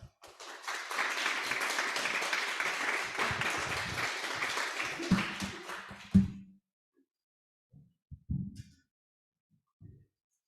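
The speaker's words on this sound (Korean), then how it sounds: "우리 목사님 박수로 모시도록 하겠습니다" A church congregation gives a warm burst of applause to welcome the pastor to the pulpit on the second day of a Bible study conference, steady clapping for about six seconds, then fading to a few scattered claps and thuds.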